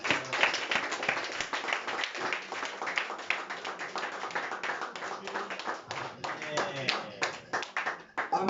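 A church congregation clapping in steady rhythmic unison during worship, dense continuous hand claps, fairly close, with voices singing and speaking along under the clapping.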